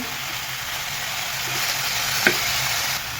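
Dill greens (shepu) sautéing in a pan, a steady close sizzle and frying hiss that holds evenly throughout, with one brief clink near the end.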